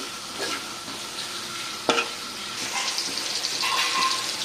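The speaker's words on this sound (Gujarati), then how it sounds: "સરખી રીતે આને મિક્સ કરી લેવાનું છે ડુંગળી ટમેટાને" Onions and tomatoes sizzle in oil in a pan for a Punjabi tadka Maggi while a spoon stirs them, making a steady frying hiss with scraping strokes and one sharp clink against the pan.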